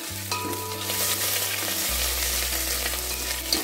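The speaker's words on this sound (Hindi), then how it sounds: "अब इन सबको भून लेंगे।" Loud, steady sizzling of whole dried chilies, green chilies and ginger frying in hot oil for kadhi tempering, with occasional stirring scrapes, continuous and close throughout.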